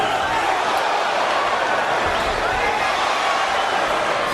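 A UFC arena crowd roars in a continuous, steady wash of cheering and noise, loud and unbroken with no distinct individual voices standing out.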